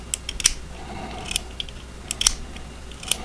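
Lock of a Reate EXO-M gravity knife sliding back and forth: a handful of crisp metallic clicks and snaps scattered over a few seconds, close and fairly faint over light background hiss, no talking.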